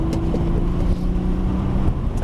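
A car accelerates on a race track during a driving course, its engine a steady low drone with a sustained tonal hum, close and continuous for the whole moment, no voices.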